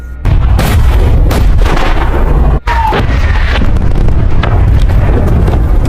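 Heavy, rumbling long-range artillery booms in a war action film roll continuously under gusting wind noise, loud and dense, with a brief dropout midway.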